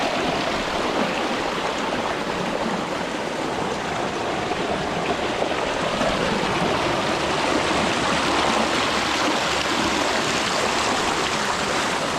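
Strong, steady rush of a river running high after flooding fills the whole stretch, a loud continuous churn of fast water close by.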